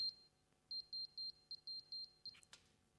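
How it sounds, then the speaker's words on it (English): An access card reader for a door lock beeps when a card is swiped, giving a rapid series of about ten short, clipped, high-pitched tones, followed by a brief rattle and a sharp click; quiet and close, with no speech. "If it works, it does the nice beep beep, and the relays click, and the door locks unlock."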